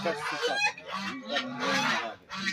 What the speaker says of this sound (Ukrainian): Чуєте, як ті гуси роблять? Це страшне з гусьми.